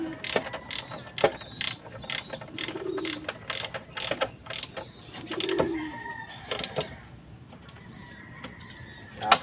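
A socket ratchet clicks in quick, uneven bursts while loosening fork screws on a motorcycle with an oil leak at the inner fork tube, close and fairly loud, with faint birdsong and a rooster in the background.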